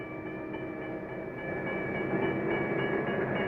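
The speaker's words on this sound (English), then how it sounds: "Soon the freight train arrives at its first stop." Santa Fe Railway freight train arriving at a stop, a steady heavy rumble with sustained tonal squeal from the wheels or brakes, growing slightly louder midway and holding continuous without voices.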